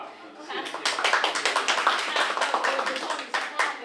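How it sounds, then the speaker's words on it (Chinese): At an environmental NGO conference panel, the audience breaks into lively applause, with dense overlapping claps that swell quickly and carry on steadily for a few seconds before tapering. "再给大家一次掌声啊，谢谢。"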